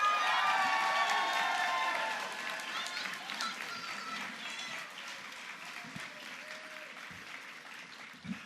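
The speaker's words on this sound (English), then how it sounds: "please make a big round of applause for Ilovekimpossiblealot!" A convention panel audience at a fan event applauds and cheers loudly at first, the clapping and shouts thinning gradually over several seconds, with a voice faintly talking over the crowd.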